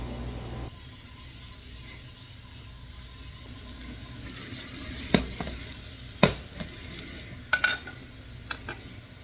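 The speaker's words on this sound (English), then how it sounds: "Now I like to add a splash of a crisp wine. I'm using a Pinot here to get the drippings off the bottom of the pan." Pinot wine splashed into a hot pan of bratwurst drippings on a stove sizzles steadily and close, with scraping knocks and clatters from stirring the bottom building toward the end.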